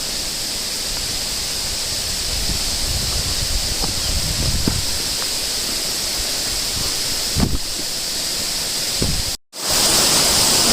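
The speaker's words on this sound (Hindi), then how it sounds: "झरने की नीचे गिरने की आवाज़ आ रही है" A waterfall at Subhash Dhara tumbles downward, a steady broad roar of falling water heard from a short way off, with a few footsteps and handling knocks before a brief dropout and louder rushing water.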